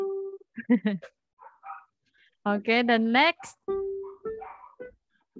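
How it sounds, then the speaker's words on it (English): Several short dog barks and yips ring out in bursts, with a person speaking briefly nearby. "Can you hear the dogs?"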